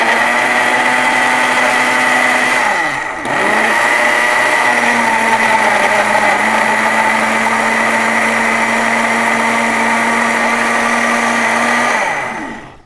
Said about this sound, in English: I'm going to turn the blender on quickly.